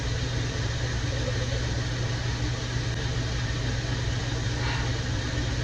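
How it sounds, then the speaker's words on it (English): An evaporative cooler runs steadily on a 107-degree day in a home kitchen during jam and jelly making, a constant broadband whoosh with a low hum underneath, unbroken and fairly loud throughout. "I'm sure you can hear that cooler running in the background"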